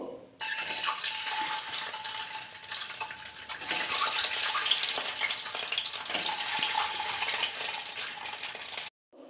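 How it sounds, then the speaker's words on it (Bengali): Boiled eggs fry in hot mustard oil for a dhaba-style egg and spinach curry, a loud, dense, crackling sizzle that runs steadily for about eight seconds before cutting off abruptly. "এবার ডিমগুলো দিয়ে ভেজে নেব।"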